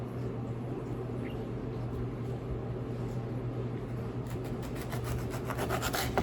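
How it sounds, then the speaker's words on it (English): Knife slicing through an orange to cut away the thick rind while candied oranges are prepared, making close, continuous rubbing and scraping with a few sharper cuts near the end, no talking. "make sure you slice off enough to get rid of the thick part of the rind"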